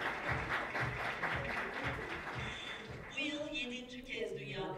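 Audience in a room at an International Day of the Girl Child regional conference claps in a dense patter for about three seconds, then the applause fades as a voice takes over.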